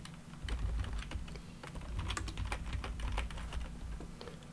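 Keys clatter on a computer keyboard as a network command with a subnet mask is typed for a router, a quick irregular run of close, crisp clicks over a low steady hum.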